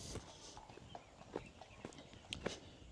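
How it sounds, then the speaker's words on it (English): Faint, uneven hoofbeats clip-clop somewhere nearby over a soft outdoor background, with a few sharper knocks toward the end. "Yeah, we can hear them horses in there now."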